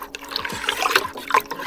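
Raspberry-infused water for homemade wine pours and splashes in a short, close burst of liquid with gurgles and trickles.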